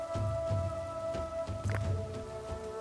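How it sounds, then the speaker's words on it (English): Steady rain falling in the caveman survival game Dawn of Man, a continuous patter over a low rumble and a constant tone in the game's ambience, with no talk. "How can the skins dry when it's raining?"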